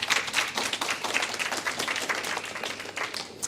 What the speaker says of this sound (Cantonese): 請大家送上少少嘅掌聲俾佢哋